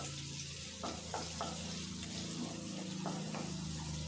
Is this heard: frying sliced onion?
yes